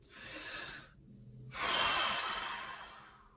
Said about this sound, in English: First of all, take a deep breath.